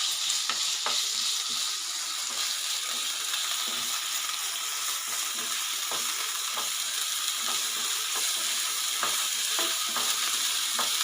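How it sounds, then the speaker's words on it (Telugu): Boneless chicken fries in a pan for chicken kajjikayalu filling, a loud continuous sizzle with regular scraping stirs of a spatula ticking through it. "ఇలా బాగా ఫ్రై చేసుకోవాలి."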